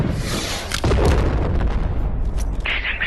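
Heavy artillery explosions in the VR game Animal Company land as loud, deep booms, one big blast near the start followed by rumbling, crackling detonations that keep the scene dense and noisy throughout.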